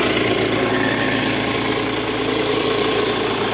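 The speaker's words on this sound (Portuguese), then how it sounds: "Só o alternador tá com esse barulhinho," A Mahindra Scorpio 2.6 diesel engine idles loud and steady, with a continuous rumble and an alternator whine running through it.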